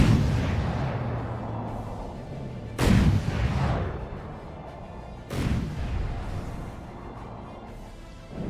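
Missiles exploding in the From the Depths ship-battle game, two heavy booming blasts about two and a half seconds apart over a low rumbling backdrop, each decaying slowly.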